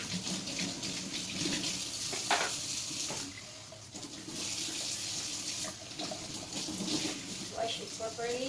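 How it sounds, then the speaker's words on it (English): Tap water runs steadily into a sink while a baby's feeding bottle is washed, a continuous close splashing flow with faint handling sounds and a voice speaking over it. "Wash it properly. Take out the leftover of the milk inside the bottle, feeding bottle, and also to the tip."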